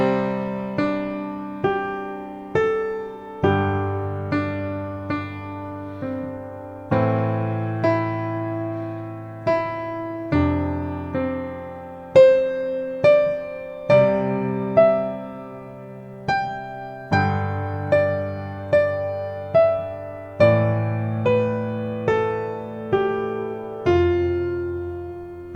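Solo piano improvises in a beginner style, with separate notes and chords struck one after another and left to ring. Phrases climb up an octave and return, steady and clear with no voice.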